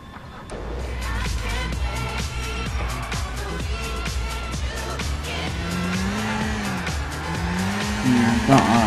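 Car engine revving and tires squealing while driving in Grand Theft Auto, loud and continuous with skidding bursts and a rising engine note near the end.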